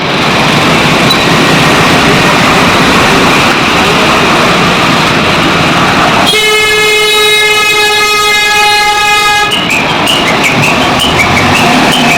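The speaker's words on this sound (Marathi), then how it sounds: "हांगाच्यान ट्रक वयतात ते." Trucks rolling out through a port gate at Mormugao, with a long, loud, steady horn blast held for several seconds against continuous engine and road rumble.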